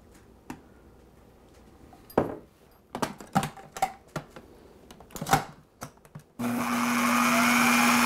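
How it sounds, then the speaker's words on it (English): Oreos and butter go in with a few scattered clunks and taps, then a blender starts up and holds a loud, steady whir close by until the end, with no talking. "And just mix that so all the Oreos are coated in the butter"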